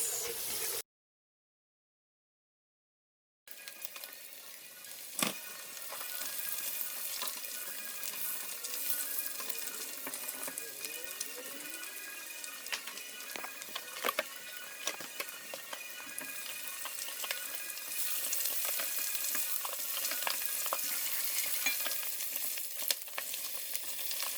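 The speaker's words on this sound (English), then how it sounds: "I need the onions to fry for a bit." Onions sizzle steadily in butter in a pan, a constant crackling fry with occasional sharp pops and clinks, after a brief silent gap at the start.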